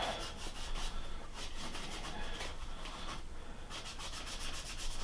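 A softer Scotch-Brite pad rubs against the metal surface of a South Bend lathe under restoration, making a steady, fairly quiet scratchy scrubbing with rhythmic back-and-forth strokes throughout.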